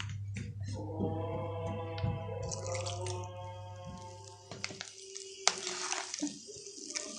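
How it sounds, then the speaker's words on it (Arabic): Water trickles and drips into a homemade pastirma coating paste as it is mixed. The light splashing and dripping is close and fairly quiet, with faint background hum and no talk. "حط شويه ميه كمان"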